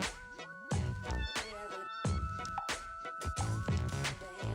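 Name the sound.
cat meowing in a dating sim video game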